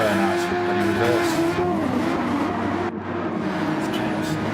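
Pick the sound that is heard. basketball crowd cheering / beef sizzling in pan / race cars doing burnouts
race cars doing burnouts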